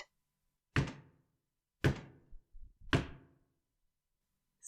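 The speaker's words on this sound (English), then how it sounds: "3 knocks." Three heavy, evenly spaced knocks land on a door at night, each a dull thud with a short decay, and a faint shuffle comes between the second and third.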